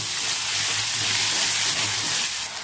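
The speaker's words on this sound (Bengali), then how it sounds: "পেঁয়াজ আদা রসুন একসাথে ভালো করে ভেজে নেব।" Onion, ginger, garlic and chopped tomato frying in a pan, giving a steady, loud sizzling hiss that runs unbroken from start to finish, with no talk over it.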